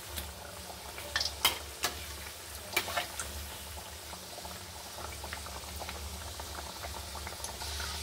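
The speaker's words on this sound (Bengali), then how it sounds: "আর এখানে ভেজে নেব ভালো করে লাল লাল করে" Chhana jilapi frying in hot oil: a steady bubbling simmer runs throughout, broken by a few sharper clinks and taps in the first three seconds, with no voices.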